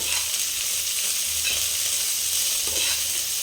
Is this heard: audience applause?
no